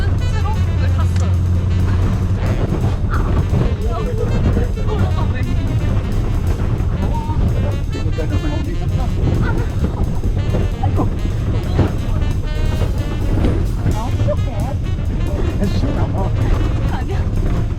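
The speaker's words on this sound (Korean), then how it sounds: "나 지금 굉장히 신기한 버스? 트럭을 탔어요." Riding in an open truck-bus on a road on the way to a tour, with steady loud engine and road rumble plus wind throughout and people talking over it.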